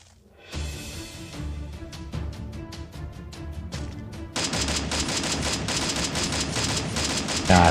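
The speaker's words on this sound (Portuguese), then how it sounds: "Tão me dando tiro." Gunfire in the video game Free Fire: a sharp run of single shots quickly gives way to dense rapid bursts of automatic fire, loud and close, with no talking.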